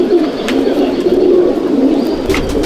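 A loft of Andhra pigeons of Madras stock coos continuously and close, layered low calls from several birds with occasional short sharper sounds mixed in.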